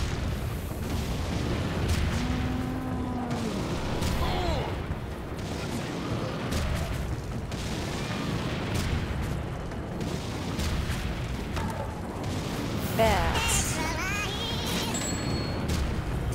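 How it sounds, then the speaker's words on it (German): Cannon fire in the video game Serious Sam 2: repeated heavy booms and crashing blasts amid continuous game noise, with a few short vocal shouts and tonal effects mixed in. "Die Kanone ist eigentlich sehr, sehr cool"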